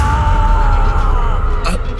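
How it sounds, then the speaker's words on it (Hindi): A long, loud, strained scream rings out in a Hindi horror audio drama, a sustained wailing cry with wavering pitch over a heavy low rumble, briefly broken near the end. "ये किसकी चीख थी?"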